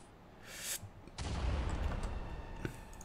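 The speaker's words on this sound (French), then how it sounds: "j'ai entendu une explosion." A distant explosion in the prison-management video game Prison Architect rumbles softly, with a sharp onset followed by a sustained low roar that lingers for a couple of seconds.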